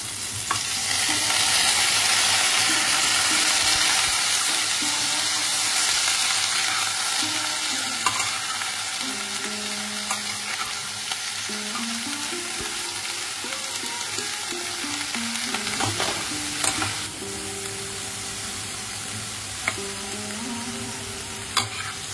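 Cut vegetables fry in hot oil in a pan after a radhuni spice tempering, a steady close sizzle with stirring and scraping through most of it, and a faint clatter of utensils.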